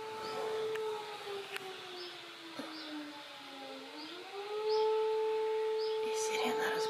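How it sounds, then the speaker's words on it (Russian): An air raid siren for a ballistic missile alert wails steadily in the distance, its pitch sagging low midway before climbing back and holding a loud, sustained tone. "И сирена разбудила."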